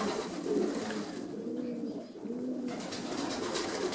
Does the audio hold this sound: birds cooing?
yes